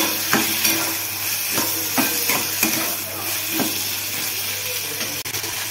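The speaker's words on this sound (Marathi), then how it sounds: "तेल सुटायला लागल्यावर याच्यामध्ये बटाटे टाकून घ्यायचे। तर बटाटे हलवून घ्यायचे।" Potatoes frying in hot oil are stirred in a pan, with a steady sizzle under repeated scraping stirs at an uneven, moderate pace, close and clear.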